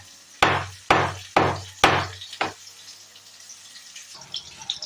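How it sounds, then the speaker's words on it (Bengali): A heavy object pounding a lump of jaggery for mango pickle, five sharp, resonant knocks about half a second apart, close and loud, then fading into quiet handling noises. "আর এরকম একটা ভারী জিনিসের সাহায্যে আমি গুড়গুলোকে ভেঙে দেবো।"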